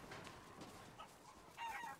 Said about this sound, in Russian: А это петухи, это не курицы.